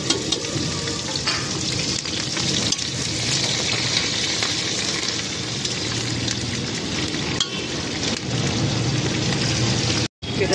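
Chopped green chilies and garlic frying in hot oil for a leafy greens dish, a steady loud crackling sizzle that runs unbroken with small pops, cut briefly near the end.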